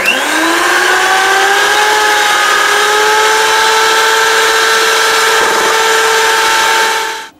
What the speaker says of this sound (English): put in 1 egg white, and we want to beat this until soft peaks form